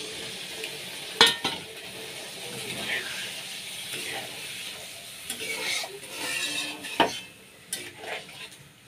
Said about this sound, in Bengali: ফুটে উঠছে, এবার এটা আমি ঢেকে দেবো